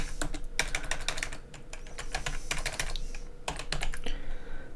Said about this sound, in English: So we're going to also type in the title here, some title,